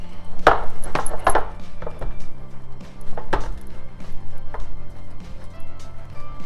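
Spiced, ruffled-up roast potatoes tossed on a hot oven tray, giving a series of sharp clattering knocks and scrapes, several strong hits early on and then scattered lighter ones, close and fairly loud with no talking.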